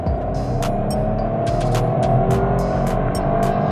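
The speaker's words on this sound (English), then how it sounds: "the flat four-esque sound of this three-cylinder" A Peugeot 308 with a 1.2-litre three-cylinder engine runs steadily with a low, throbby hum, heard from inside the car with an even drone and brief higher rustles above it.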